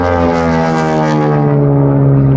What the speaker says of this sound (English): This combination of a radial engine and supersonic prop tips give it the very distinctive roar and snap that you hear during its performance.